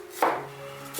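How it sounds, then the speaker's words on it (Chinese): A knife chops garlic into slices on a cutting board, giving two sharp, close knocks about three quarters of a second apart over a quiet background. "接着我们来准备几个蒜，把它切成片"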